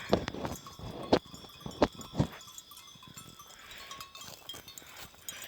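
A flock of sheep herded through a village at night, hooves clopping on dry ground with scattered faint bleats, quiet and fairly near, with a few sharper knocks early on.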